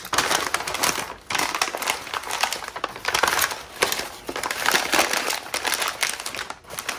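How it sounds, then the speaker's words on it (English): Grocery-bag paper crunched and crumpled by hand nearby, in continuous dense crinkling bursts with brief pauses, loud and close with no talk. "So you can either take your paper and just crunch it up."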